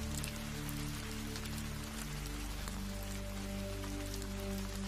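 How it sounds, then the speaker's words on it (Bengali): Steady, dense rain pours through a bamboo grove during a night storm, a constant hiss with a low droning bed beneath, while a voice speaks briefly over it. "সামনে এগোনো তাদের জন্য যেন অসম্ভব হয়ে উঠছিল এই ঝড় বৃষ্টিতে।"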